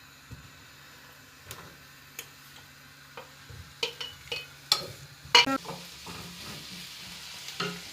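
Soya chaap frying with masala in a home kitchen pan, stirred with a series of sharp clinks and scrapes that grow louder toward the end over a faint, steady background hum.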